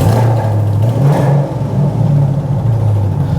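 A 2010 Chevy Camaro SS with a swapped 6.2L LS3 V8 idling close by, a steady deep rumble with a lumpy rhythmic lope and a slight swell partway through.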